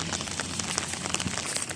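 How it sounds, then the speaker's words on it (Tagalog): Steady patter of rain falling on a surface while someone walks, with soft crackling drops and a faint rustle, continuous throughout. "naglalakad pero umuulan"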